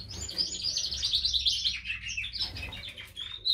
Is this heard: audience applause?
no